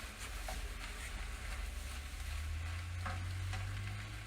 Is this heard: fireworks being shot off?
no